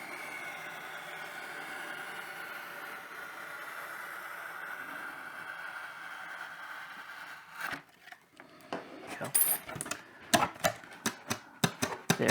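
A razor blade slicing through foam board to cut a wing hinge line, first a faint steady scraping, then a run of sharp, close, rhythmic cutting ticks toward the end.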